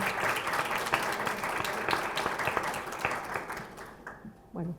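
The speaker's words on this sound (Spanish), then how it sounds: "Les brindamos a todas un aplauso para recibirla." A seated audience at a book presentation claps warmly for about four seconds before the applause fades out, and a voice briefly begins speaking at the very end.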